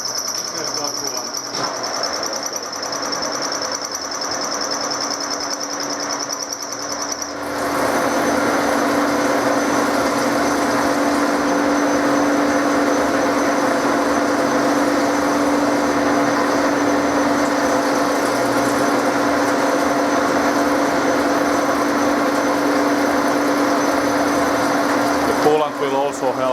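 A metal milling cutter on a machine bites through steel under flood coolant, producing a steady, loud mechanical drone with a whining tone that grows fuller partway through and runs continuously.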